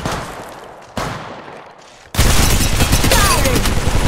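Gunfire from Apex Legends Mobile, with a couple of single sharp shots followed by a sustained, loud, close burst of rapid automatic fire.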